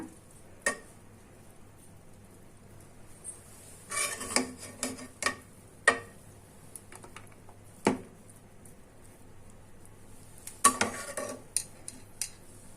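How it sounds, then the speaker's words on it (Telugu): A spoon scrapes and stirs coconut rice with vegetables in a pot, working from the bottom, in a series of irregular close clinks and scrapes over a quiet background. "చూడండి, అడుగు నుంచి ఇలా కలుపుతున్నా."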